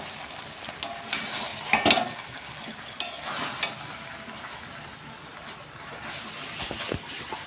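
A spoon scrapes and stirs through fish-head muri ghonto made with katla fish and garam masala in a pan, steady stirring over a faint sizzle with scattered sharp clinks.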